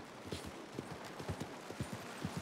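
Horse hooves clip-clop in an irregular walking rhythm in the video game Red Dead Redemption 2, soft, thudding steps over a steady background hiss, with no voices.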